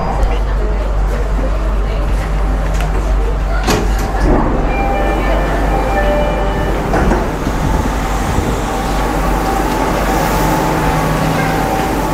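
A Jakarta commuter train heading to Bundaran HI Bank DKI station rumbles along with a constant low drone, occasional squeals and clatters, while announcements and voices come and go over the noise.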